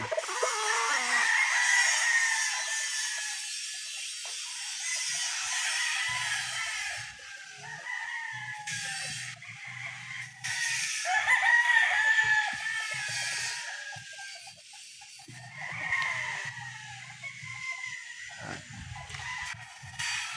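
Several roosters at a gamefarm in Norzagaray, Bulacan crow repeatedly, some near and some farther off, with clucking and low farmyard noise between calls.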